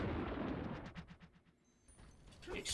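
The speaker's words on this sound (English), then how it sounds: "Explosions!" Rumbling blasts from a video game explosion boom and crackle in quick succession, fading into softer debris noise before another burst rises at the end.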